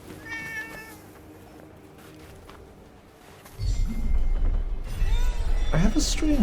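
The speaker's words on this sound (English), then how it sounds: "A cat." A cat meows in the video game Forspoken, a few short cries over quiet game ambience, followed by a louder stretch of rumbling game sound.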